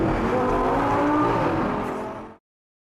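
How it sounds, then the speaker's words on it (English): A Lamborghini LP560-4 Spyder supercar engine roars loud and close, a dense throaty drone that holds steady for a couple of seconds and then cuts off abruptly into silence. "this is the Lamborghini LP560 Spyder"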